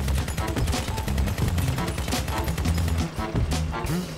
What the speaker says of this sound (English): Wow, those machine guns are just badass.